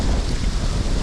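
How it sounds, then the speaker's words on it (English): Strong wind gusts roar steadily against the microphone outdoors, a dense broadband rush with low buffeting rumble and no voices. "Man, it's windy today."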